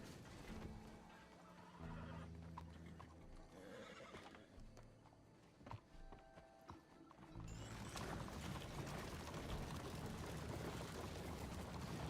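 Horse neighing and hoof clip-clop from the video game Red Dead Redemption 2, played on a MacBook Air M4, with a whinny over steady game ambience and a louder, denser stretch toward the end.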